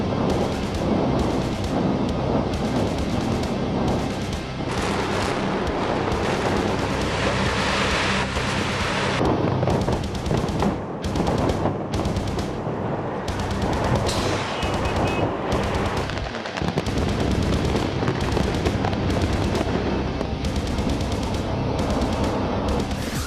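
Building demolition blasting with timed detonator charges produces a long, loud, roaring rumble of crackling bursts and collapsing debris, surging and briefly dipping over more than twenty seconds without speech.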